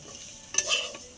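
Bombay duck fish frying in a pan with turmeric and salt, stirred by a utensil: a short scraping stir over a soft sizzle, close and fairly quiet, lasting about a second.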